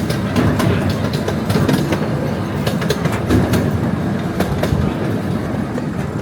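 Steady rumble of a train rolling along the rails, heard from aboard, with rhythmic clickety-clack of wheels over joints, loud and close, no voices.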